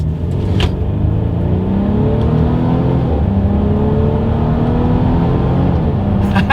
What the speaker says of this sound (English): let's see how quickly we can get this thing here up to speed